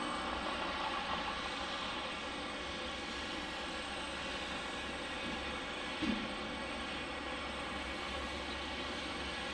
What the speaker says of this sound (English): Now we get a departure here. Trying to see who it is. Looks like a 717.